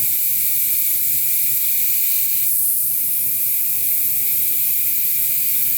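An airbrush sprays paint onto a sculpted quarter-scale Shadow Cat figure, a loud, steady close-up hiss that runs unbroken with only a slight shift in tone partway through.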